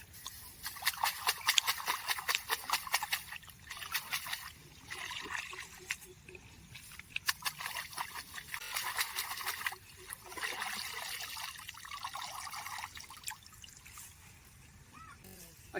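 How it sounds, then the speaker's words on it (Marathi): Bundles of rice seedlings are washed in paddy water, making soft trickling and splashing with repeated bursts of dribbling water, moderately close and fairly quiet. "अशा प्रकारे ह्या पेंड्या धुतल्या जातात."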